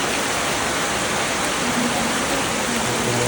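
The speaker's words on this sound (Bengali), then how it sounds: "সারাদিন বৃষ্টি, সারাদিন বৃষ্টি হচ্ছে।" Heavy rain falling during a day-long downpour, a dense, steady hiss that stays loud and continuous throughout, without talk.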